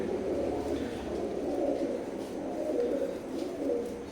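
Teddy pigeons of an imported Oman bloodline coo softly close by, a low, steady murmur with faint background noise.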